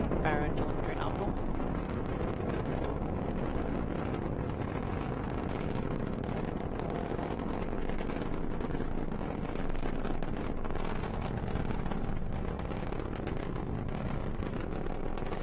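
A continuous deep roaring rumble with crackling texture, loud and unbroken, from the Merlin engines of a SpaceX Falcon 9 rocket throttling down about one minute after launch, while a voice talks over the noise.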